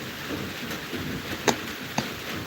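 Steady rain falling outdoors, an even wash of hiss with a couple of sharp louder drips or taps standing out, moderately close, no talking.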